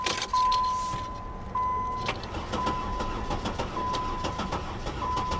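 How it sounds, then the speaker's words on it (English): A wrecked Porsche Boxster's engine cranks over in a steady rapid rhythm without catching, while a repeating electronic warning chime beeps over it. "it doesn't sound like it's cranking with a broken timing belt either"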